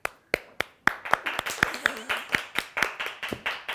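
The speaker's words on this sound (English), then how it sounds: "That was more of a slow clap." A slow clap in a small bathroom: a few sharp, widely spaced claps that settle into a steady, quicker rhythm, with a faint voice briefly underneath.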